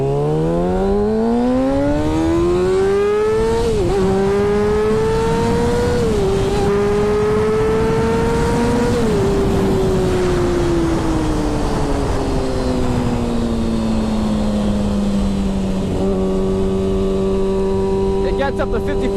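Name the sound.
motorcycle accelerating fast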